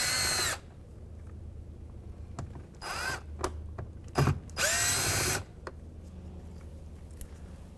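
A power drill backs out Phillips screws from the door panel of a 2007-2013 Acura MDX, in several short whirring bursts of varying length separated by pauses, close and fairly loud, with no talking.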